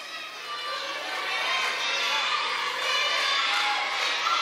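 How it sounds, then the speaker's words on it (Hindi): Crowd noise from an audience at a school event in an international school, with cheering and clapping rising into a sustained, dense roar that fills the whole stretch. "एक बार फिर से बजाइए ताली"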